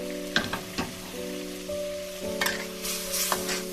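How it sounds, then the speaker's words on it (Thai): A spicy Thai fish ball curry with long beans, eggplant, fresh chilies and basil simmers in a pot, giving a steady, soft bubbling sizzle with a few light clicks over a faint constant hum. "เราต้องเคี่ยวแบบนี้ก่อนนะคะ"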